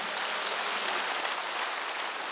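Congregation applauding during a Wednesday worship service at a church, a steady dense wash of many hands clapping without pause, fairly loud and close, with no voices over it.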